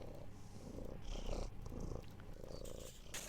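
A cat purrs steadily in a continuous low rumble in the video game Garry's Mod, with synthetic background noise and a few brighter electronic tones layered over it.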